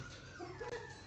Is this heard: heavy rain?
no